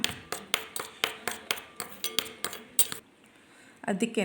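A metal spoon clinks sharply against a bowl in a steady rhythm of about a dozen taps while mixing coffee powder with Pond's powder, then stops briefly before a short scraping clatter.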